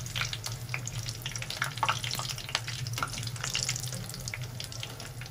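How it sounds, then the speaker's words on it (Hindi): Onion pakoras frying in hot oil, a steady close crackling sizzle with scattered pops and bubbling throughout, no talking. "बस थोड़ी सी 1 मिनट और इधर से फ्राई करेंगे, फिर हम निकाल लेंगे।"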